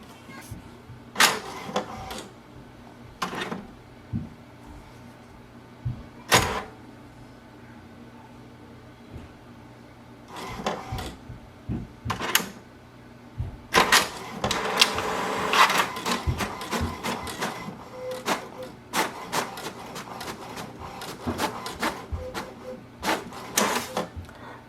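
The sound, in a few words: inkjet printer running a cleaning cycle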